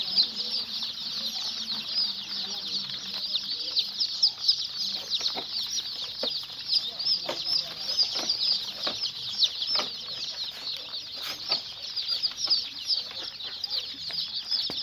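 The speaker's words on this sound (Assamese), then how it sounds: "এইকেইটা মুৰ্গী পোৱালি" Many chicks peep continuously in a high chorus while chickens, including Indian breed birds, cluck softly and intermittently nearby; no one speaks.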